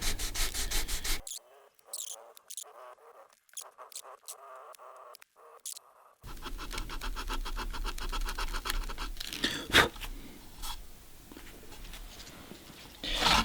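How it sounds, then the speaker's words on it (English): Sandpaper rubs back and forth on a woodburned wooden fish sign to take off a line, making short close scratching strokes broken by a few seconds of near silence before a steadier stretch of rubbing. "we're gonna try and carefully sand"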